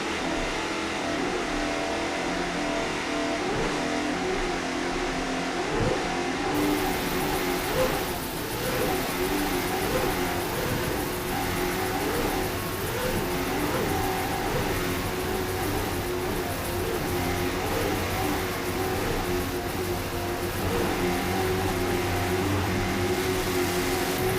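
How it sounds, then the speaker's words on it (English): Twin Mercury 750 Supercat engines on a racing powerboat at Key West run wide open, giving a loud, continuous droning roar that holds steady throughout, with no talking. "Wide open, listen to those motors purr along. Twin Mercury 750 Supercat engine."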